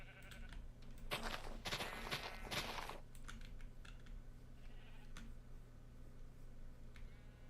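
Minecraft sheep from a modded game bleat in a dense cluster of several overlapping calls early on, followed by quieter scattered clicks and keyboard-like taps over a constant low hum.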